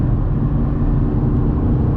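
A deep, steady Audi R8 V10 engine drone heard from inside the cockpit, constant and loud with no revving or voices.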